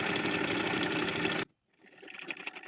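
A sewing machine runs steadily and loudly, stitching a narrow seam on a baby frock sleeve of Bexi voile fabric. It stops abruptly halfway, then a softer rustle picks up.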